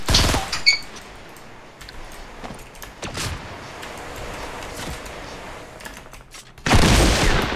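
Gunfire in Fortnite, with sharp bursts near the start and a short crack mid-clip, then a loud, dense burst of shots at the end, over a quiet background.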